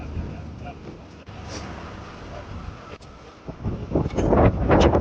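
Strong gusty wind buffets an outdoor bog site where a large rainwater tank is strapped onto a makeshift trailer, a constant low roar that swells louder toward the end, with some speech-like murmur mixed in.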